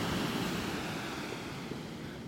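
Ocean surf washing up a shell-strewn beach in North Naples, Florida, a steady broad wash of breaking waves with some wind noise on the microphone, continuous and fairly close throughout.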